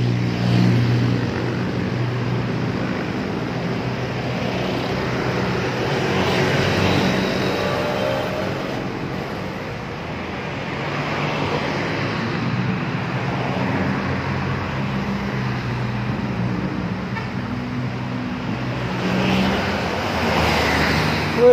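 Primajasa buses roll past on the road at Nagreg at night, a steady, fairly loud rumble of engines and tyres with broad traffic noise swelling and easing, no voices.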